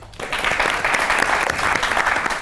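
Studio audience applauding on a talk show, a steady dense wash of clapping that starts almost at once and holds loud and even for the full stretch.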